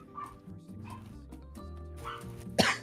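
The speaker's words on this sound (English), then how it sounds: "Sounds like dogs are desperate too." Dogs whimpering and yipping while begging for chicken, with several high, close whines and a sharp final yelp over a low background hum.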